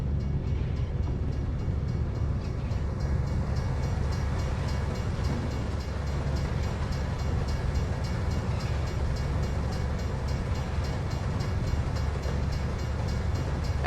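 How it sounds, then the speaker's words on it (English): A train rumbling past in the American Truck Simulator driving game, a steady dense low roar with rail clatter that holds at an even, close, loud level for the whole stretch, with no talk over it. "Is there some kind of reason this train just stops?"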